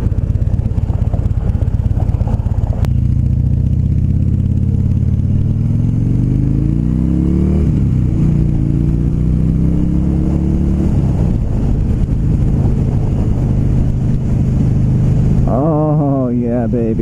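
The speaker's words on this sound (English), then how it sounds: "Just out cruising on my lowrider." A 2016 Harley-Davidson Low Rider cruising on an afternoon ride, its engine rumbling loud and close with a low, steady drone that rises and falls as it accelerates, over constant wind rush, with someone talking briefly near the end.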